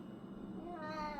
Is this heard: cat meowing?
yes